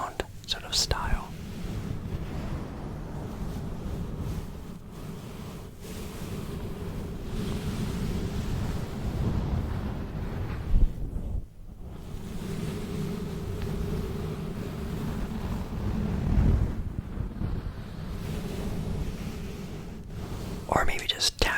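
Whooshing, ocean-like ASMR noise made by rubbing on a microphone, a close, breathy rushing sound that swells and fades in slow waves like surf, with a brief pause midway.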